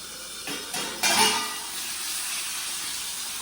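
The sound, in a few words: tempering boiled dal in hot oil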